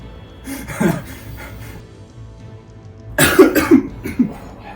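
Two bouts of harsh, close coughing separated by a quiet pause, the second bout louder with several rapid coughs in a row.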